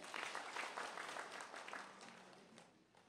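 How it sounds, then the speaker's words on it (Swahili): An audience at a Chama cha Mapinduzi party meeting in Kilindoni, Mafia, applauds in a steady mass of clapping that slowly fades, faint and somewhat distant. "Jipigieni makofi tafadhali"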